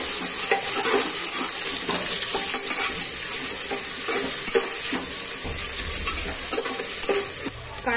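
Sliced onion fries in hot oil with cloves, black pepper and cinnamon, giving a bright, constant sizzle broken by scattered spatula scrapes and stirring knocks, close and fairly loud throughout, with no talking.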